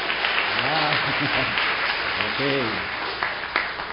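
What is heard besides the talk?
applause from congregation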